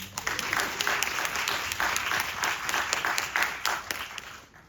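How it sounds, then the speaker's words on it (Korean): Audience applause at a film screening and Q&A event with a band, loud continuous crowd clapping sustained throughout, heard close with no voices over it. "박수 주세요."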